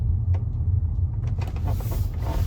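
A car rolls through a multi-level car park with a steady low engine rumble and road noise, a few faint knocks and creaks over the drone, no talking.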